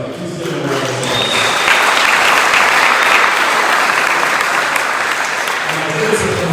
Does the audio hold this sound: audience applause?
yes